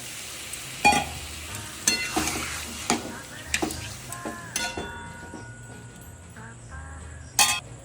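Small new potatoes for dum aloo sizzle in a pan after water is added, a steady bubbling fry punctuated by occasional clinks and scrapes of a utensil against the pan.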